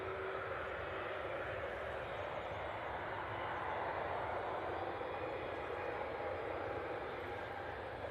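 A KLM airliner passes at Manchester Airport as a steady, broad jet roar, constant and fairly distant throughout with no break.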